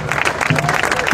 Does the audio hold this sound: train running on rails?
no